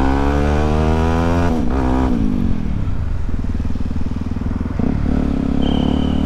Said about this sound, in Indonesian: sambil nyobain knalpot